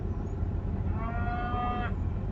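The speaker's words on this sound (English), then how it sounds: "Hear them cattle bellowing at?" A single cow lets out a drawn-out, low bellow over a steady background rumble, close by and fairly loud.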